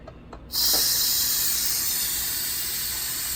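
A pressure cooker releasing steam: after a brief quiet moment a loud, sudden hiss bursts out close by and holds steady and strong to the end, alone without talk.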